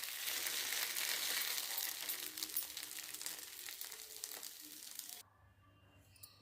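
Paniyaram batter frying in a hot pan, giving a loud, steady hiss and crackle of oil that runs for about five seconds, then drops sharply to a faint quiet tail.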